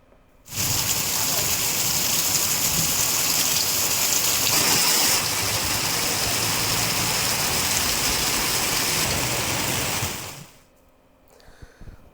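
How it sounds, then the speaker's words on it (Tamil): A heavy rain shower hisses and drums steadily on surfaces, loud and close, in a constant wash of sound for about ten seconds before it fades abruptly, with no speech over it. "1 மணி நேரத்திற்கு மேலாக கனமழை பெய்தது"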